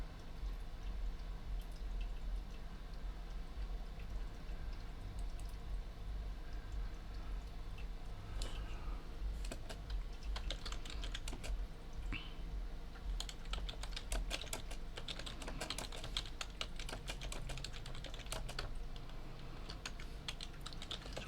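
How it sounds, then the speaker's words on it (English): Steady typing on a computer keyboard clicks away in soft, irregular bursts for about twenty seconds, faint under a low constant hum, with no voices. "So I'm just typing, this is the message of the day."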